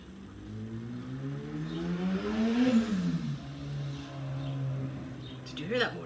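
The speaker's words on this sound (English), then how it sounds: "Did you hear that motorcycle? So loud." A loud motorcycle roars past, its engine pitch rising to a peak and then falling away as it passes, with a faint sound of children in the background.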